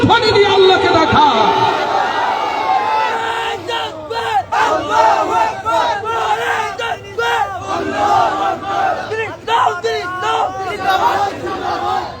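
Large religious gathering in Sylhet chanting takbir, many voices roaring the call together loudly in repeated surging shouts, with a leader's amplified voice at the start and crowd noise between chants.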